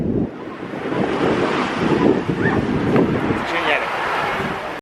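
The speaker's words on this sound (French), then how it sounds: "J'espère que vous m'entendez avec le bruit de la mer, le bruit du vent, le bruit de tout." Wind buffets the microphone and sea waves wash ashore along the seaside at La Ciotat, a loud continuous roar with surging swells, while a person talks over it.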